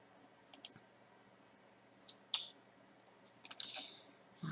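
Mouse clicks while navigating the Chrome browser's menu, a few sharp, close clicks spaced irregularly over a quiet background, with a short pair near the start and a cluster toward the end.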